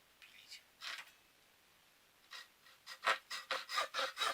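A notch being sawn into a wooden arrow shaft with a small metal saw, a few scattered rasping strokes and then a steady rhythmic run of short, close back-and-forth scrapes.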